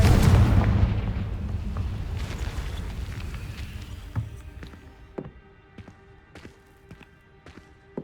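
Confringo blasting spell explosion in Hogwarts Legacy, a loud deep boom that rumbles and slowly decays, followed by several sharp, fainter impacts and crackles spaced out over the remaining seconds.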